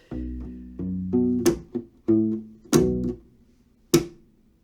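A funky groove on a U-Bass, thumb slaps and finger plucks that pop sharply between short, deep sustained notes, played alone in a syncopated rhythm of roughly six percussive accents.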